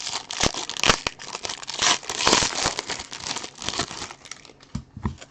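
Close crinkling and tearing of a foil pack of football trading cards being ripped open, a continuous papery rustle with several sharp snaps and crunches.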